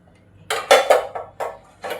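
New metal pots and a kadhai are handled and set down in a home kitchen, giving five or six close, sharp clanks and clatters over about two seconds.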